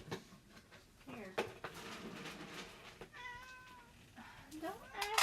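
A house cat meows repeatedly, several rising, drawn-out cries at close range mixed with household clatter, while a person talks to it in between.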